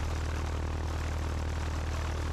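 A Piper Archer PA-28-181 light airplane's propeller engine drones steadily and loudly from inside the cabin during a northbound departure out of Hartford, a constant throbbing hum with no pauses.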